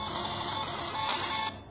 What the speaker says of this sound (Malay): saya akan dekatkan handphone saya dengan printer saya. Nanti tuan akan dengar satu receipt akan keluar.